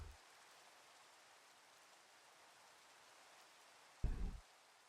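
Steady soft rainfall in the video game Minecraft, with shaders on near a riverbank, holds as a faint, even hiss throughout, with a brief louder low thump near the end.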